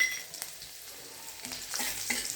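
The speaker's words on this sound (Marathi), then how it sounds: "मस्त परतून घ्यायचा थांब थोडासा तांबूस असा झाला पाहिजे" Finely chopped garlic sautéing in hot oil with asafoetida and turmeric, a soft continuous sizzle with spatula stirring scrapes, close and fairly quiet, no talking.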